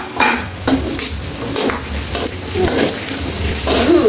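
Sliced chayote fries in a pan with a steady sizzle, while a utensil stirs and scrapes repeatedly against the metal in an irregular rhythm, loud and close.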